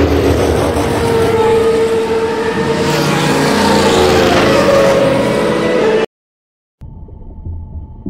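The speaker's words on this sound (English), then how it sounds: "R is for race car." A race car engine roars loud and steady for about six seconds at high revs, cuts to a brief silence, then a lower, softer engine hum follows.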